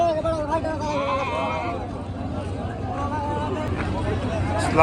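Sheep bleat repeatedly at a busy livestock market in Madhabdi, mixed into a constant crowd babble with people talking close by throughout.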